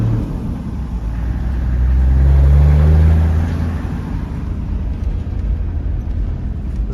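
A Toyota Land Cruiser 100 Series pulling away while towing a trailer, a loud steady engine drone with low rumble that swells as it accelerates, then settles into an even cruising hum.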